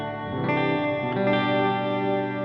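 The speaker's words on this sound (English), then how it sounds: "this is the spring reverb" Electric guitar chords ring out through a washy, shimmering spring reverb pedal, sustained and steady with no one talking.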